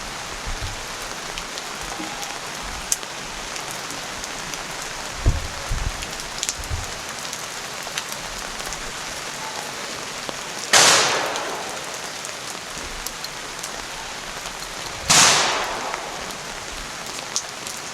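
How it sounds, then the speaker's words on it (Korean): An honor guard fires a rifle salute at a memorial ceremony at the Korean National Cemetery. Two sharp, loud volleys with echoing tails ring out about four seconds apart over a steady outdoor hiss. "조총은 3회 발사됩니다"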